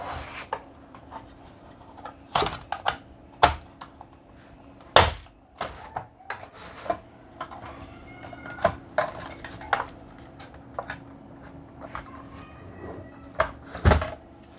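Someone pries open the screwless plastic front panel cover of a computer UPS, making a series of sharp irregular clicks, snaps and plastic scrapes, close and fairly loud, with short quiet gaps between.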